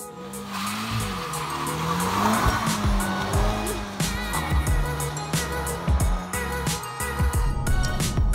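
A 2017 Honda Civic Type R with 320 horsepower is driven hard, its engine droning steadily while the tires squeal and skid repeatedly through corners, loud and close throughout.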